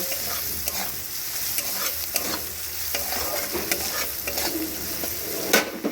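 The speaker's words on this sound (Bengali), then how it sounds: "একসঙ্গে ভালো করে একটু ভাজা ভাজা করে নেব" Spices with chilli powder sizzle steadily in a hot pan while a spoon stirs and scrapes against the metal in uneven strokes, close and fairly loud.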